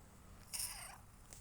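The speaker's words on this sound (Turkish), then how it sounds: "Kedilerden biri mamaya gitti." A faint, brief cat vocalization rises over a steady low background hiss, fairly distant and soft, with no speech.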